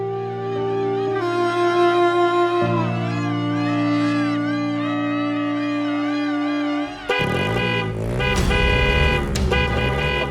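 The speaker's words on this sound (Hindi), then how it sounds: "सुबह सुबह इतने हॉर्न्स दे रहा तू" A car horn honks repeatedly in a residential neighborhood early in the morning, with loud, sustained blaring tones that shift pitch and pattern over several long blasts.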